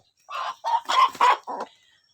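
KUB village chickens kept free-range on open land behind a farmhouse cluck and crow in five loud, close bursts, with no talk over them.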